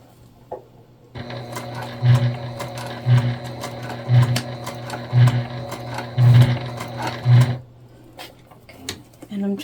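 A sewing machine stitches piping onto a crossbody bag in a steady run of about six seconds, with a rhythmic pulsing hum that stops abruptly, then quiet with a few light handling clicks.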